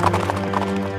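Horse hooves clip-clop steadily in a loud, continuous rhythm, used as a sound effect in a Tamil narrated folk tale of riders arriving on horseback, with musical tones beneath and no talking.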